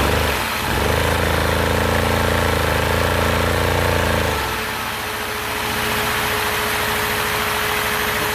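A newly built 6x6 engine runs close by with a steady low rumbling drone that shifts pitch partway through and settles into a rougher, quieter idle.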